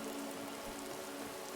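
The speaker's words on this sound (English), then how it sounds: "I love this bitrate destroying rain." Rain in the video game Skyrim, a dense, even hiss of falling rain with a faint low hum beneath it, steady and quiet, with no speech.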